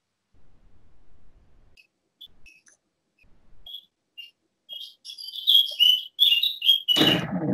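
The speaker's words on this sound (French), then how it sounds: "c'est un oiseau qu'on entend" A bird chirps faintly in the background of a phone call, a few short scattered tweets and whistles that grow busier toward the end before a brief louder burst cuts in.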